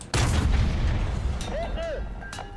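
A single loud gun blast is fired at a heavily armored tank turret in the World War II shooter Enlisted. A booming report rings out, followed by a brief metallic ricochet whine as the round fails to penetrate.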